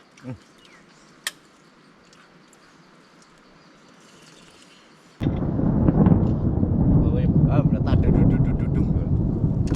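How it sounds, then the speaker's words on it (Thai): Thunder breaks on a night watch at a shopping mall. A quiet stretch with a single faint click gives way suddenly to a loud, sustained, rumbling roar that fills the rest of the scene. "ฟ้าร้องแบบนี้ เหตุขึ้นแน่นอน"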